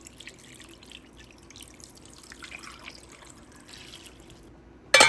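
Water being poured into a cooking pot holding 5 kilograms of beef bones, onion and whole spices for paya, a steady soft trickle and drip running throughout, with a brief louder clatter at the very end.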